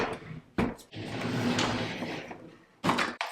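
A makeup drawer slides shut, a close rumbling scrape as it glides along its runners, framed by sharper knocks at the start and end of the movement.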